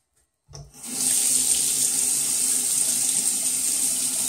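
A tap runs water to rinse a 1977 Gillette Trac II razor, starting abruptly after a short silence and continuing as a loud, steady close-up hiss and splash into the sink.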